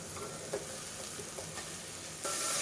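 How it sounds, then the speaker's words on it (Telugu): Masala and chopped tomatoes frying in a pan for a village-style chicken curry, giving a continuous close sizzle with a few soft stirring taps and a sudden louder hiss near the end as more goes in. "మసాలా కాసేపు ఫ్రై చేద్దాము. కట్ చేసిన టమోటా ముక్కలు వేద్దాము."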